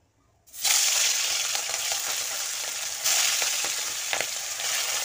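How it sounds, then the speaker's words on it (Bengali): Hilsa fish pieces fry in hot mustard oil in a wok, a loud steady sizzle that bursts up suddenly and holds, with a surge partway through and faint scattered crackles. "কড়াইতে তেল গরম হয়ে গিয়েছে, আমি এই ইলিশ মাছগুলো ভেজে নেব"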